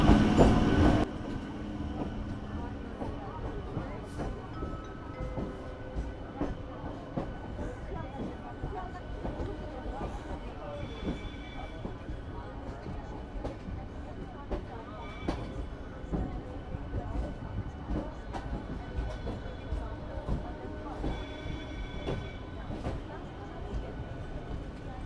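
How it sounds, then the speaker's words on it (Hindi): Kolkata local train pulling out of Howrah station, a steady rumbling roll with rhythmic clickety-clack of wheels over rail joints, occasional faint squeals, heard from inside the carriage with passengers murmuring in the background. "हावड़ा से ट्रेन निकल चुकी है"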